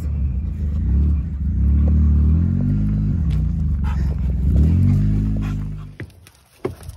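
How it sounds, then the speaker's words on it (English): A four-wheeler ATV engine rumbles close by, its pitch rising and falling as it comes up from behind, holding steady for several seconds before cutting away near the end. "coming up behind me in the four-wheeler, making noise"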